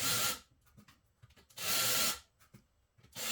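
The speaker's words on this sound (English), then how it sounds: "Pre-drilled holes first to avoid the wood from splitting" A power drill pre-drills holes in wood, with two loud, close bursts of whirring and boring about half a second each, separated by quiet handling noises and a third burst starting at the end.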